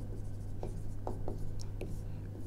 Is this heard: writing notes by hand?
yes